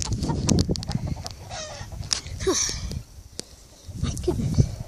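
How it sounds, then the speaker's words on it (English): Geese on a farm field honking and clucking among other poultry, a few close calls mixed with rustling and handling noises, while a person talks nearby. "Just trying to sort the geese out here."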